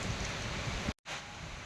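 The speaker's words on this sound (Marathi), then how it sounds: "आला पाऊस आता चांगला येत आहे" Steady rain hisses close by, a dense even patter that cuts out briefly midway before resuming.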